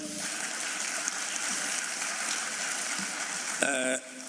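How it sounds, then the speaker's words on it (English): A dense, steady round of applause fills an indoor hall at the announcement of the 2024 matric results, honouring the Director General, before a voice briefly cuts in near the end. "Let's give our Director General another round of applause."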